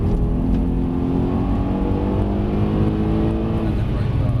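A Mercedes-Benz C63 S engine at full power on a track, a loud continuous roar building steadily under the throttle, with an instructor's voice faintly under it.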